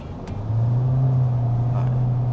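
Toyota Vios GR-S hybrid under moderate throttle as the petrol engine joins the electric motor, giving a steady, low cabin drone that swells slightly and holds.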